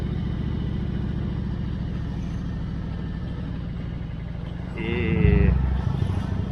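A Harley-Davidson motorcycle with a fuel-injected engine idles in a low, steady rumble, then revs up briefly near the end before settling, heard close with a voice over it.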